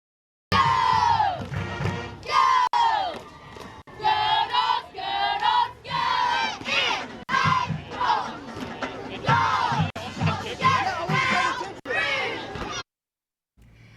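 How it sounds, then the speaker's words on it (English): The New Albany Bulldogs high school cheerleading squad chants loudly in unison, rhythmic shouted phrases repeating in bursts with short pauses between them, close and energetic at a Friday night football game. "for Cheer of the Week, who you just saw, those were the New Albany Bulldogs"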